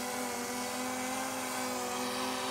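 A DJI Air 2S drone lifts off and hovers close by, its propellers making a steady, high-pitched whining buzz that holds at an even, loud level with no talking.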